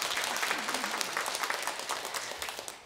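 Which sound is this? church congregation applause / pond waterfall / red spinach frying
church congregation applause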